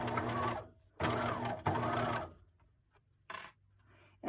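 Sewing machine back stitching through make-up bag fabric with a foam layer, three quick buzzing bursts of stitching separated by pauses, then a brief clack near the end, close and fairly quiet with no talk.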